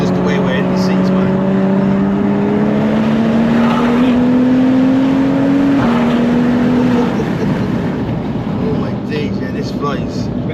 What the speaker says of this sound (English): But this turbo spools up so quick.